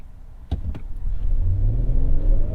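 A 2021 Kia Telluride engine restarts after an automatic stop-start: a brief click or two, then a steady low rumble that builds and settles into a smooth idle inside the cabin.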